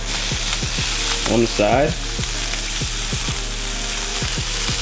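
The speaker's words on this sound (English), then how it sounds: "I'm gonna take this asparagus and we're gonna drop that right here" Asparagus sears in a hot cast iron pan with a loud, steady sizzle and crackle, broken by a few light clicks and taps from handling the pan as a voice speaks briefly.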